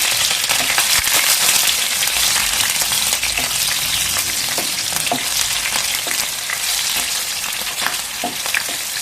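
Green chillies fry in hot oil in a pan for a fish curry, giving a steady, loud, close sizzle broken by frequent crackles and pops throughout.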